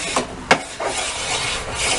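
A hand file rasps across rough pallet wood in a workshop, a few close scraping strokes with short pauses, the sharpest stroke early and a steadier rub toward the end.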